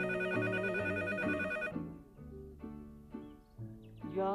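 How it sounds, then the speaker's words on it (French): A telephone rings with a repeating electronic melodic ringtone, loud and close, its tone pattern cycling steadily without anyone speaking. "Je laisse sonner pour savoir si Diego répond."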